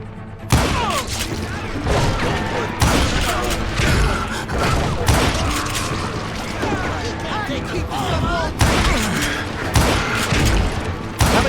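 Gunfire in a Call of Juarez: Gunslinger shootout against dozens of deputized shooters, a loud near barrage of repeated shots and booming impacts running throughout, with someone talking over the action.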